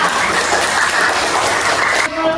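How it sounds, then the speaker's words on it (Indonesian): Children clapping in an elementary school classroom, a loud, dense round of applause sustained close by, then cutting off abruptly near the end as a voice begins. "Kasih tepuk tangan untuk Lola."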